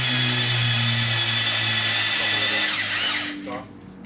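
A drill-driven cylinder hone works the bores of a 5.7L LS engine block in a backyard, a steady loud whine with abrasive scraping that winds down near the end, close up.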